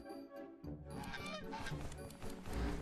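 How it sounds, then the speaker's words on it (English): Geese honk repeatedly in the video game Teddy's Haven, a dense, loud overlapping chorus of honks in the foreground. "These geese, that's what I'm saying."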